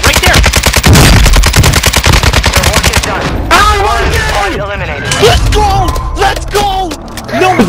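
Gunfire in the Warzone 2 video game: a loud, rapid machine-gun burst rattles for about three seconds. Excited shouting players then take over, with scattered shots beneath them.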